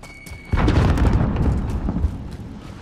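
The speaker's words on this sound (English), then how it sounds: "Using a frag." Call of Duty: Modern Warfare frag grenade going off, a sudden heavy boom after a brief quiet lead-in, followed by a rumbling, debris-filled decay, loud and close, no talking.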